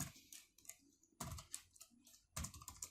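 Computer keyboard typing in quick bursts of several clicky keystrokes, with short pauses between groups, close and fairly quiet.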